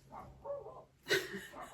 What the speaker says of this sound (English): Half the time they don't even know what they're barking at.